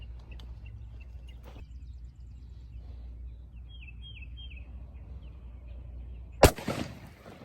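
A single sharp, loud AR rifle shot firing AAC 77 grain open tip match ammunition from a 12.5-inch barrel, cracking suddenly after several seconds of quiet outdoor ambience with faint birdsong, then trailing off in a brief echo.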